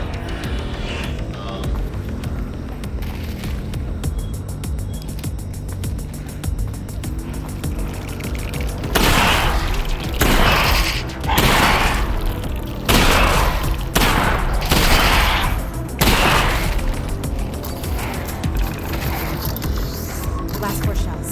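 Gunfire in the VR shooter Half-Life: Alyx, several sharp loud shots around the middle in an irregular burst over a steady in-game background hum; no one speaks.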